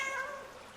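A single cat meows, short, clear and close, with a bright tonal cry that fades quickly.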